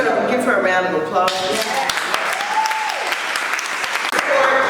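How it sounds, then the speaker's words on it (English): Loud audience applause at a local music event, a steady crowd of clapping mixed with cheering voices and a brief whistle-like tone, with music fading out under it at the start. "Y'all give her a round of applause."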